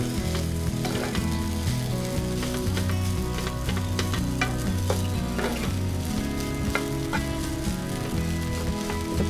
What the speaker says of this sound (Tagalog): Maglagay po tayo ng itlog, yung scrambled egg natin.